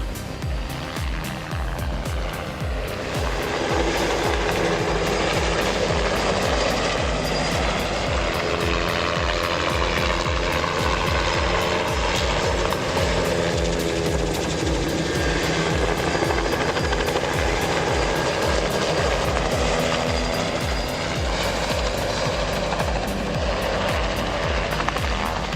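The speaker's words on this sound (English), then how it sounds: "Just watch the crazy skills of this helicopter pilot." Helicopter flying overhead during Christmas tree harvesting with a logging operation, its rotor chop pulsing loud and steady for the full length, heavy low thumping beneath a broad engine roar, with no voices.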